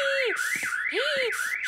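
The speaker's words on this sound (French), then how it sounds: "cette fois-ci, c'est l'alarme incendie." A school fire alarm in an animated French cartoon, sounding as a loud electronic wail that sweeps up and down in repeating cycles, close and continuous.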